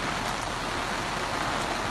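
Steady rain falling, a dense, even hiss of drops that stays constant and fairly loud with no voices.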